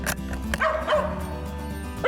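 A hunting dog outdoors in a squirrel hunt gives a quick series of loud, close yips and excited barks with a whining edge, aimed at a fox squirrel up in a tree.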